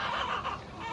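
Chickens clucking in a steady, busy chorus, close by and fairly loud, with no one speaking.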